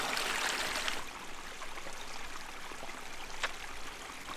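A mountain stream near the Solheimajökull glacier in Iceland runs with a soft, steady rush and trickle, continuous and moderately close, with a brief brighter splash partway through.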